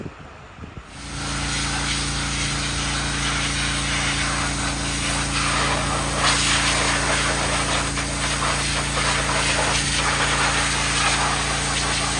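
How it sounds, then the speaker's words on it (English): Degreaser is sprayed onto a truck engine in a shop, starting after a short quiet moment and then running as a loud, continuous pressurized hiss with a steady mechanical hum beneath it for the rest of the clip. "then we'll spray it down with degreaser one more time and really try to get it as clean as we can"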